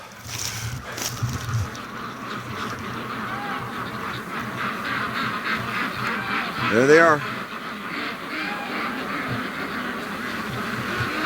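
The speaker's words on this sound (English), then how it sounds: "there's the brant geese" Brant geese call outdoors in a group, scattered honks and quacking notes with one brief louder cluster, while a person speaks briefly nearby.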